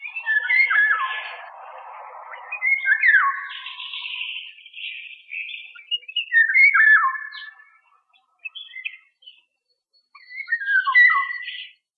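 Fluting, whistled golden oriole phrases come in short bursts separated by pauses, clear and fairly close against a silent background.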